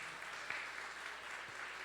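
Applause from a church congregation at a Sunday service, a steady wash of clapping held at an even, moderate level throughout.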